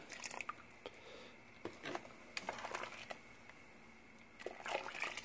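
Seat belt webbing drops into a pot of dye water, making soft wet squishes, drips and a few sloshes in a quiet room, with faint low background noise.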